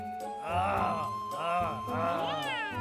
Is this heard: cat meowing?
yes